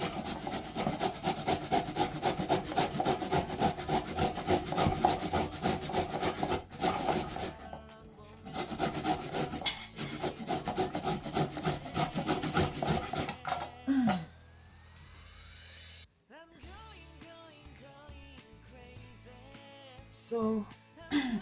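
An ingredient for homemade pink lip balm is grated by hand, a rhythmic scraping rasp in quick repeated strokes for about thirteen seconds, then stopping, followed by quieter clinks and handling sounds.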